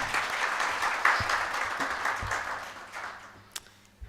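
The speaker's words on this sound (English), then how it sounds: "Let's give him another round of applause" Audience applause at a national e-commerce stakeholder engagement event, a dense wash of clapping that holds steady and then thins out toward the end, with a few louder individual claps near the close.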